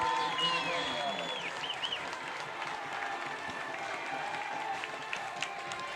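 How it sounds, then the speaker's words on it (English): Hometown fans roar and applaud at a high school football game on a packed hillside, with a loud burst of crowd noise early that settles into a steady murmur, and a voice speaks over it. "here comes Garnet Valley with also a roar from the hometown fans"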